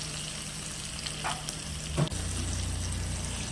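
Tamarind water poured into a pan of sautéed ingredients for Tamil lentil-dumpling kuzhambu, a steady frying sizzle that surges briefly as the liquid goes in, then settles into a low bubbling simmer.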